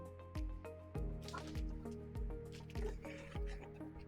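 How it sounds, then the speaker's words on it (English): Chicken pieces lifted from an egg wash mixture, liquid dripping back into the bowl in a steady series of close, quiet drops and soft squishes. "We're going to go into our egg wash mixture"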